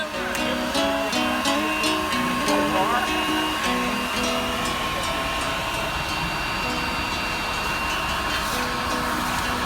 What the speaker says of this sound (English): as well as the vacuum